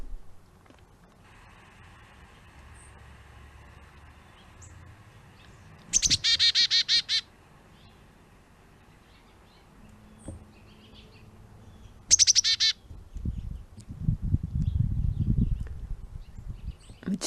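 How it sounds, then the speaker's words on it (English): Chickadee and titmouse birds at a feeder give two bursts of high, rapid chirps, each about a second long and fairly close, over faint outdoor background sounds and some rustling near the end. "And there's the chickadee and the titmouse feeding together."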